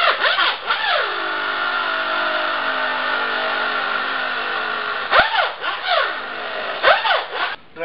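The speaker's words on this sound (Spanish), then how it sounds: "tenemos un taladro y tenemos el alambre cogido en el taladro" An electric drill twisting wire whines up and down in pitch, with bursts of spinning that speed up and slow, then a long steady run, close by.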